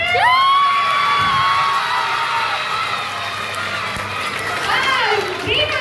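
Schoolchildren at an interhouse junior quiz cheer and shout loudly for their team, a sustained crowd roar with high whoops and voices layered throughout.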